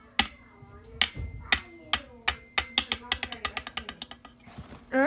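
A toy hammer from a mini strongman game taps out sharp, hard clicks, a few spaced strikes at first and then a quickening run of rapid knocks, close and clear.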